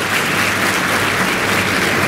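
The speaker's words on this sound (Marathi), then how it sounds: "महिला मंडळ एकदा तुम्ही आबांसाठी जोरदार टाळ्या वाजवा" Women in a seated crowd at a guidance camp in Pandharpur clap loudly and continuously, a thick, close, unbroken roar of applause with no voices on top.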